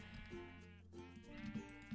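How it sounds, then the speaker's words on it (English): Sheep bleating in the Minecraft video game, several short nasal bleats in quick succession over a quiet background with no speech. "Sheep's trying to jump in here, you better stop."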